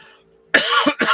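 A single harsh cough close up, breaking into a couple of quick bursts after a moment of near silence.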